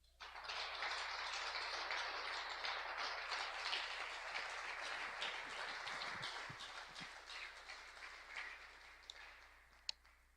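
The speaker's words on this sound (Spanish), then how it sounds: "Alguien dele un aplauso al Señor" Congregation applauding during a church service, a sustained wash of clapping from many hands that thins toward the end, with a couple of sharp claps at the close.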